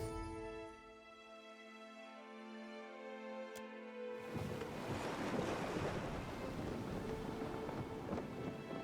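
A ship setting sail in Pillars of Eternity 2: Deadfire: sustained tonal music gives way to a broad, steady wash of ocean waves and wind that continues to the end, with no voices.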